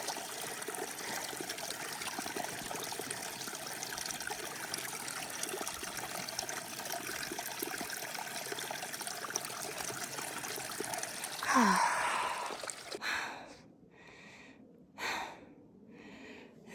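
A small mountain stream near Lily Lake trickles as a faint, steady wash of water, followed near the end by a few close breaths and rustles.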